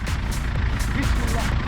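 An off-road vehicle's engine revs at an off-road driving centre with a steady, loud, close rumble, while a voice calls out directions.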